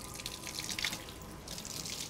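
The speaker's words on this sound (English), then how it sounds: "you can run it under cold tap water for 5 minutes." Cold tap water runs steadily from a faucet at a sink, a continuous hissing splash near the microphone, with seeds held in a sieve or tea ball under the stream.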